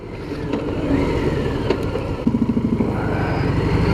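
A stock Harley-Davidson Sport Glide motorcycle being ridden, its engine rumbling loud and close with wind noise, and a brief burst of throttle pulses partway through.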